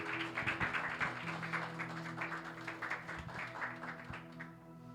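Church congregation clapping in praise during a family worship service held in a garage, a steady rhythmic run of claps with an organ-like sustained tone underneath, fading slightly at the end.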